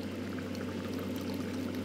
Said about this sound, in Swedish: Ska vi hälla i lite umami här.